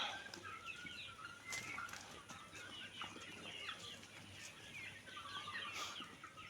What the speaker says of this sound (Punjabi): ਆਪਣੇ ਕੋਲੇ ਮੁਰਗੇ ਕੜਕਨਾਥ ਦੇ ਹੈਗੇ ਆ